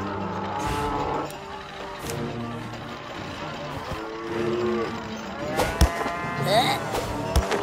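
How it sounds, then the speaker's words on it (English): Cows mooing in South Park: The Stick of Truth, Nazi cow minions giving out several drawn-out lowing calls alongside game music and effects, with a voice speaking. "My three Nazi cow minions will take care of you."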